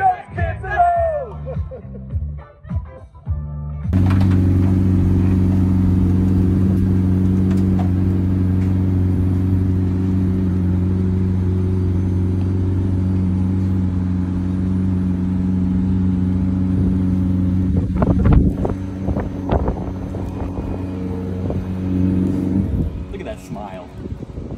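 Supercars cruising around Bucharest, a steady sustained engine drone holding for most of the stretch with a brief surge near the end, preceded by a short burst of voices.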